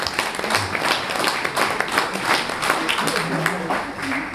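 An audience claps steadily at an enduro and endurance motorcycle awards ceremony for a 2016 season podium, and an announcer talks over the applause throughout.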